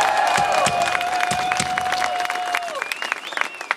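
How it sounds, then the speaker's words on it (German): A crowd applauds and cheers at a Munich carnival enthronement ceremony, with dense clapping throughout and a whistling tone sliding through the noise, the applause growing more scattered near the end. "das hat einen Applaus verdient"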